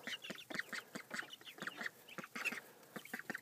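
Ducks and chickens being fed bread make rapid, choppy quacks and clucks in quick irregular bursts, close by and fairly soft, with no talk.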